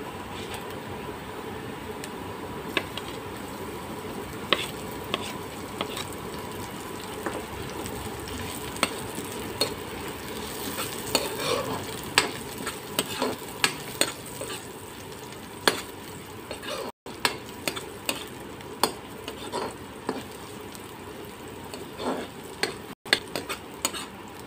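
Garlic frying in a pan for a chicken dish, a soft continuous sizzle with frequent scrapes and clinks of stirring, moderately close and steady throughout with no talking.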